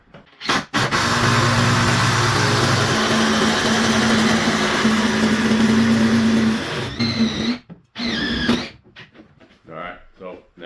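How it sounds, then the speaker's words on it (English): A loud DeWalt impact drill with a hole saw bit whirs steadily for several seconds drilling up into an attic, then stops and restarts in short bursts, with brief clatter and handling noises at the end. "I'm going to drill them up there with my DeWalt impact"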